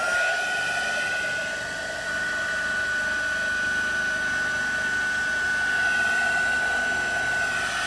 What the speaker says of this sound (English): Okay, so we're going to dry this.